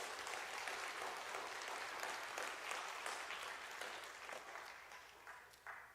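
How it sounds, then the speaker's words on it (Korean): A church congregation applauds at a special evening service, a broad, steady wash of many hands clapping that thins out slightly toward the end. "우리 한번 박수 한번 했으면 좋겠습니다."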